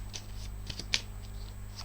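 Tarot cards being handled and covered on a table: soft slides and light taps of the cards, close and quiet over a low steady hum, with one sharper tap in the middle.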